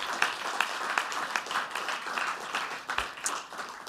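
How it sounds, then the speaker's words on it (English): Audience applause at an award ceremony honoring a faculty member, a steady wash of many hands clapping at moderate volume, fairly even throughout with a few sharper individual claps standing out. "You can clap."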